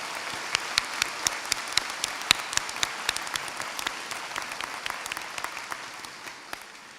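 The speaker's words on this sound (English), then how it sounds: "Let's take a moment to recognize your family, friends, parents, mentors, partners, faculty, and staff with a round of applause." Round of applause at a Temple University School of Pharmacy graduation ceremony, a large audience clapping with distinct sharp claps standing out, gradually thinning and fading away.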